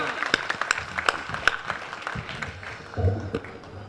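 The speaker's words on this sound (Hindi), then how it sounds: "एक बार सारे लोग हाथ उठाकर जोरदार तालियों के साथ बुलाएं" Scattered claps and a thin ripple of applause from the audience at an all-India poetry gathering, uneven and fairly soft, with some voices and hall noise underneath.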